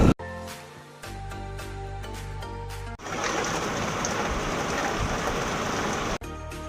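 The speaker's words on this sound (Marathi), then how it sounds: "पाऊस काय थांबायचं नावच नाही घेत" A few seconds of clicking and tonal sounds give way to loud, steady rainfall pattering on a surface during a road trip, which stops suddenly just before the end.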